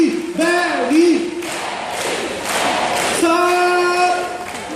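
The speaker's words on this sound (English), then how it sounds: "I want you to clap your hands and shout his name like this" An audience at a bird park flight show claps in rhythm while loudly chanting a bird's name in unison, a lively crowd sound with voices shouting together over the clapping, an announcer's voice mixed in.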